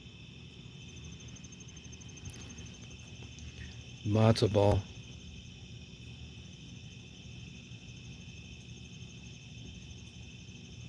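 Crickets chirping outdoors at night, a continuous high, even trill held at a faint level throughout, with a brief burst of a voice speaking partway through.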